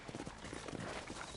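Horse hooves clip-clop steadily in the Red Dead Redemption video game, a continuous rhythmic patter of close footfalls over a dense ambient bed, with a faint whinny-like undertone and no talk.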